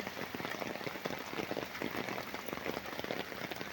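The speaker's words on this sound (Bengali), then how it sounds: "দেখতে পাচ্ছ বন্ধুরা কিরকম বৃষ্টি হচ্ছে সকাল সকাল আমাদের এইদিকে" Morning rain falls steadily on surfaces outdoors, a dense continuous patter of drops at moderate volume with no voices.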